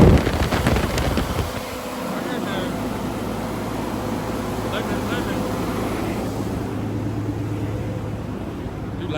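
A Cummins ISX15 diesel engine under rebuild idles steadily with its idle bumped up, a loud continuous low rumble with a rough burst at the start and some wind noise over the microphone.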